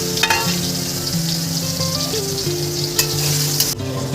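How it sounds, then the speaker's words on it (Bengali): Onions frying in oil with dried red chillies, bay leaves and cumin make a loud, dense sizzle up close, with a few sharp stirring clicks and a steady tonal hum beneath. "এবার আমি পেঁয়াজটা ভেজে নিলাম।"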